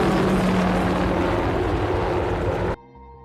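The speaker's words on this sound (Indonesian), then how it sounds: "sebuah helikopter muncul" A helicopter in an action film scene makes a loud, steady, close roar of rotor and engine for nearly three seconds, then cuts off abruptly into quiet tonal sound.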